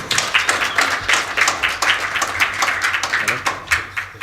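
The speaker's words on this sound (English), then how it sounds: "So round of applause, please, for Ronnie Somerville." Audience applause at a startup showcase as a guest is called up on stage, a steady patter of many hands clapping with distinct individual claps, continuing evenly throughout without speech.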